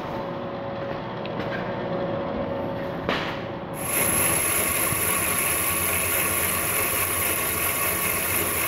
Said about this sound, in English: I'm gonna probably cut this end off just to see how fast it cuts